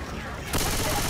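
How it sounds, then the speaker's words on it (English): Submachine gun fire in Left 4 Dead 2 during a zombie horde attack, erupting midway as a loud continuous rattle over steady background game noise. "I'm taking this fucking submachine gun"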